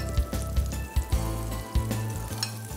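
Butter sizzles and crackles steadily in a pan for sweet and sour prawns, with a few louder clatters and stirring knocks over a constant frying hiss.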